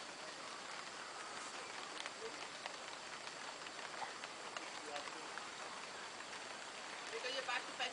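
Rain pattering under a banana plant, dense steady hiss of drops striking broad leaves, with a burst of louder splashes near the end, close and continuous.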